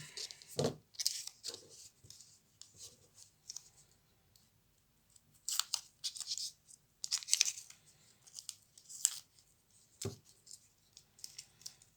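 Several sharp tearing rips of masking tape, separated by quiet pauses and small handling clicks, close and fairly quiet with no talking.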